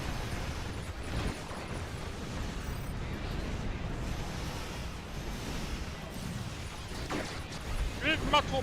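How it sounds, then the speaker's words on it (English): Torpedo fire and explosions in the space game Star Trek Online, a steady rumbling barrage of booms and bursts that runs throughout, with a sharper crackling burst near the end. "Eat my torpedoes"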